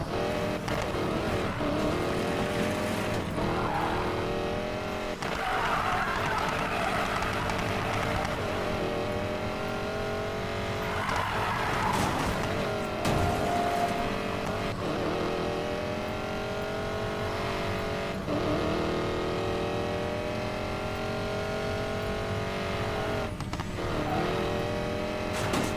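A 1965 Mustang races in Need for Speed Payback, its engine roaring steadily and loud throughout, with revving surges and occasional passing vehicles and faint tire squeal in the racing game mix.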